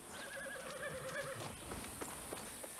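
A horse in the video game Far Cry 6 whinnies in a short quavering neigh, then a few scattered hoof clops and soft thuds follow over a steady faint background hiss.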